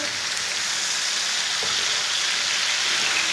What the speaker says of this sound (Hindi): टमाटर को भी मैंने 3 मिनट तक भून लिया है